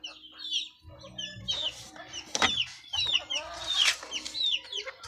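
White pit gamefowl chickens, about three months old, clucking and calling in short overlapping bursts close by, with a sharp squawk near the middle.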